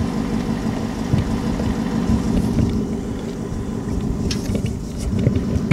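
A 2018 Ford Mustang GT 5.0 V8 active exhaust gives a deep, steady rumble with a throaty low growl, loud and close, holding throughout with a slight swell near the end.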